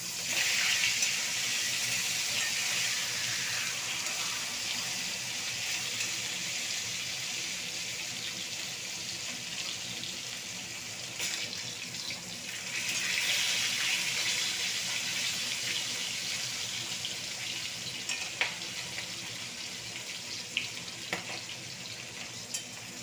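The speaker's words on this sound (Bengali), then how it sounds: "মাছটাকে আমি ভালো করে লাল লাল করে ভেজে নেব।" Pieces of katla fish fry in hot oil for a Bengali kalia, giving a steady, close, fairly loud sizzle with a few sharper spikes near the end and no voices.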